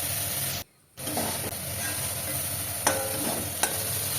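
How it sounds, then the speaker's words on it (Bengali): Chopped spinach with turmeric, cumin, chili powder and salt is sautéed and stirred in a pan, producing a constant close sizzle with stirring scrapes, one brief dropout, and a couple of sharp clinks. "তো মশলাগুলো দিয়ে আমি কিছুক্ষণ কষিয়ে রান্না করে নেবো"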